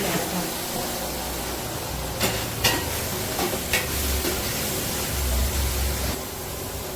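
Chicken curry with fresh mint being stirred hard in a frying pan: a steady close sizzle runs throughout, broken by scraping strokes and a few sharp clinks of the spoon against the pan.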